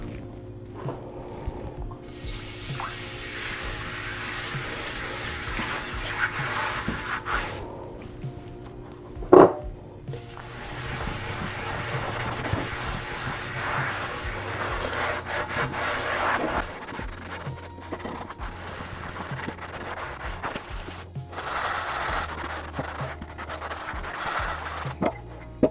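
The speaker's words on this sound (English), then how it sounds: "I just finished cleaning it under soap water" Cast iron pan scrubbed with soap under hot running water, a steady rough rubbing and scraping that continues with brief pauses and one sharp knock partway through, close and fairly loud.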